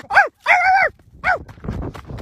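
Dogs at the start of a dog race give a few sharp, high yelps and a longer whine in quick succession, close by, followed by a brief scuffle of movement.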